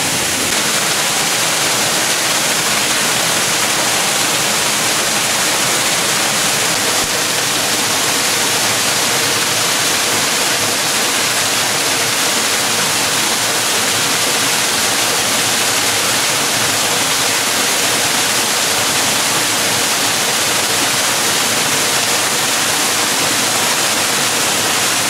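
A waterfall cascade in a Genoa park pours continuously, a loud, close, unbroken hiss and rush of water with no voices.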